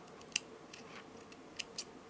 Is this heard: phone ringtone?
no